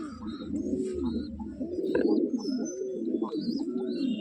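Madras breed pigeons coo at close range in a home loft, a series of low, rolling, repeated coos with faint chirps from other birds in the background.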